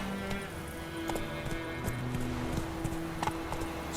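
Roach, the horse in The Witcher 3, clip-clops along at a steady walk with evenly spaced hoofbeats, moderately close over a low outdoor ambience.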